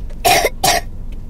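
Two quick, harsh coughs close to the microphone, one right after the other, with quiet surroundings.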